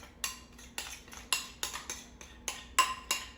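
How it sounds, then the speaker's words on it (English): A utensil clinks against a bowl while Polish potato pancake batter with egg and flour is mixed, giving a quiet, close, irregular series of short metallic taps with brief gaps between strokes. "And we're gonna mix this together really well"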